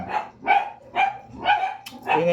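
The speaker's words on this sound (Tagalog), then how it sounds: "Ingay ng aso." A hungry dog barks five times in a steady, evenly spaced rhythm, each bark loud and close with a slight whine to its tone.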